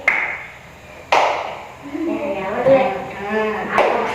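Hand claps ring out in a primary school classroom game, a couple of sharp isolated claps separated by pauses while people talk in between.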